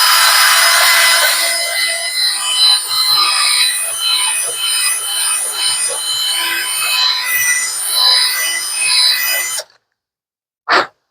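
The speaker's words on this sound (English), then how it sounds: "So all I'm going to do is ream it out just a little" Reaming out a plastic part from an Epiphone Les Paul repair, held in pliers: continuous scraping, rasping strokes close to the ear for about ten seconds, then silence broken by one short final scrape.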